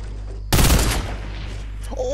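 A Fortnite sniper rifle fires one sharp, loud crack that rings into a decaying burst of noise over a low background hum, with a faint voice toward the end.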